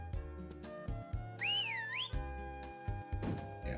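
A rising and falling whistle tune in the Harvest Moon Magical Melody video game, sounding once over looping in-game background music and short chiptune effects.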